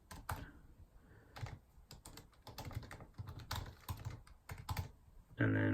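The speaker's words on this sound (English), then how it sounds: "Now type in an email address." Fingers tap out an email address on a computer keyboard, giving bursts of quick, close key clicks with short pauses between them and a louder thump near the end.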